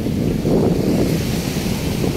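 Sea waves at the dolomite sand beach on Manila Bay wash in as a steady, continuous roar, heavily mixed with wind buffeting the microphone, with no voices.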